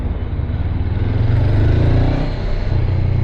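Honda CB 500 Hornet motorcycle engine on a test ride, a low throaty grunt swelling louder midway and then settling, heard close and steady with no talk.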